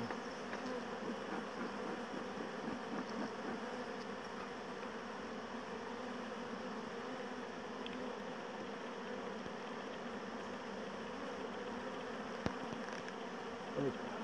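Honeybee workers hum in a steady, dense drone from an open hive frame during an inspection, filling the whole stretch with continuous buzzing.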